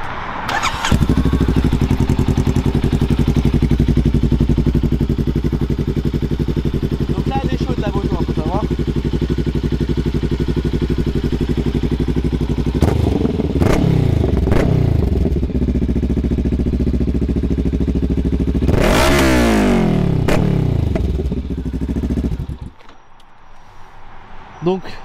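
A Honda trail motorcycle starts and idles with a loud, steady engine rumble, then revs in several sharp bursts before cutting off near the end.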